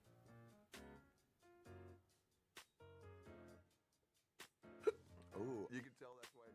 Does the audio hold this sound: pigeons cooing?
no